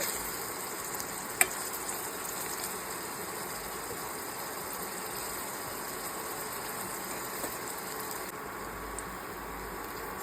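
Chopped onions frying in hot oil in a pan for a hostel-style chicken curry, giving a steady, even sizzle that holds throughout with faint stirring and no talk.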